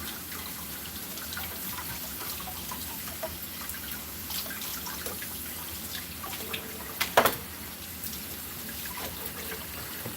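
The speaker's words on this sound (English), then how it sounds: "I'm just going to do a quick rinse on it" Tap water runs into a kitchen sink as a quick rinse, a soft steady trickle and splash close by with a brief clatter near the end, no talking.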